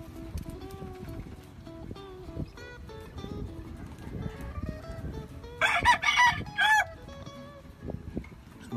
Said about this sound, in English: It's my dad's McCray brood cock.